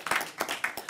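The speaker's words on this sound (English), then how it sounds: "And yes, I'll applaud for him." A few quick, close hand claps from an audience at a Washington forum, a brief burst of four or so claps in under a second.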